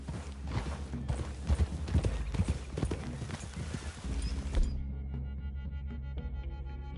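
Horse hooves clip-clop at a steady walking rhythm in the Red Dead Redemption 2 video game, close and clear, with a faint whinny, before the hoofbeats stop and only soft ambient music remains.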